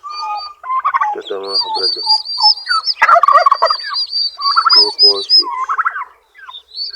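Turkeys gobble loudly and close by in a series of rapid, warbling bursts, with shrill higher calls between them and someone speaking briefly partway through.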